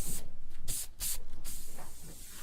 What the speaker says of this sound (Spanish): Un poco de spray. Importante ahí que se fije tu cabello.